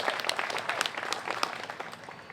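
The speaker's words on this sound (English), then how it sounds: "A round of applause for those guys" Audience applauding fire department officers at an Oregon first responders celebration, a short burst of many hands clapping in a dense, steady patter, moderately close.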